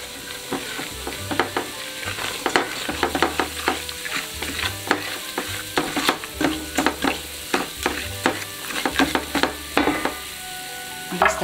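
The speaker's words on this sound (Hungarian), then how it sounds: "A lisztet én szeretem megpirítani, akkor nem lesz csomós" Flour toasts in hot olive oil in a pan, giving a steady close sizzle broken by repeated scraping strokes of a stirring utensil.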